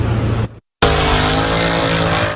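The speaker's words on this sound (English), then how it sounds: "leaving a trail of smoke from spinning wheels." A four-door sedan spinning its wheels on 7th Avenue near Times Square at night, tires squealing in a loud, continuous screech with a roaring engine, broken by one brief silent cut before resuming.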